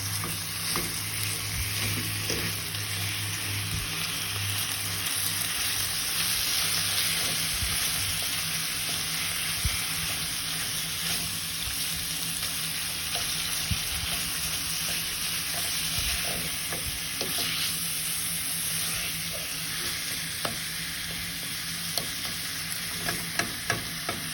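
Minced beef sizzles and spits steadily in a hot pan for a homemade lasagne, with occasional scraping and stirring as the meat is broken up, a continuous close frying hiss throughout with no talking.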